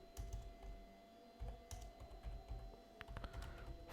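Keys tapped on a computer keyboard while typing a prompt, a soft, quiet run of uneven clicks with a few sharper strikes, steady and close with no voices.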